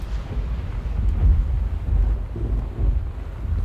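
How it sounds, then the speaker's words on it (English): Thunder rolling in the video game Gone Home, a deep, low rumble with swelling surges that sounds close, behind the listener, with no talk over it. "Why does the thunder always sound like it's behind me?"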